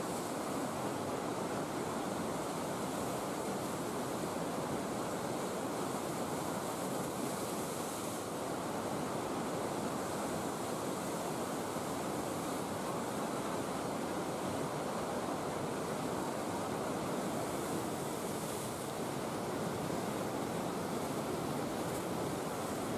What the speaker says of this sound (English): Squeezing all that water in such a narrow area increases the water's speed to nearly 50 kilometers an hour and creating these massive rapids